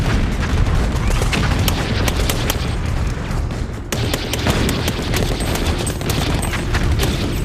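Heavy machine-gun fire in short controlled bursts during a World War II battle in France, dense and continuous with booming reports and distant explosions layered throughout, loud and close.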